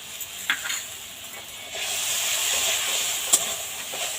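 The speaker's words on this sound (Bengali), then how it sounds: "দিয়ে একটু হালকা নাড়াচাড়া করে নেব, বেশি ভাজবো না" Desi tangra fish curry is stirred lightly in a pan after soaked spice paste and water go in, giving a steady hissing sizzle with a few soft spoon scrapes and one sharper clink.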